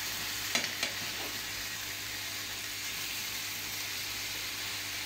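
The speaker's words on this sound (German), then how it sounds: "So, die lassen wir jetzt mal kurz braten." Turkey steaks sizzle steadily in a hot pan, a constant bright crackle with a few brief clinks of a utensil near the start.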